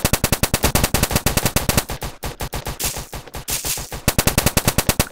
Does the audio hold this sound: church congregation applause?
no